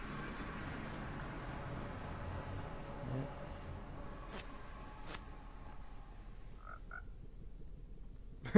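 Frogs croaking in a Minecraft world, short repeated calls standing out faintly over a steady low game ambience, with no talking.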